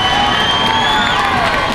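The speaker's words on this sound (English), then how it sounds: "And that gets the crowd on their feet." Ice hockey crowd at a Reno Ice Raiders versus Bozeman Stingers game cheering after a fight; a dense, loud roar of cheers and shouts fills the arena without pause.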